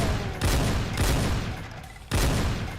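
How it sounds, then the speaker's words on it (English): A triple-barrel chain gun fires in shotgun mode in a video game, giving three loud, broad blasts spaced about three-quarters of a second to a second apart, each a dense burst with a short rumbling tail. "But as you can see, it's a shotgun."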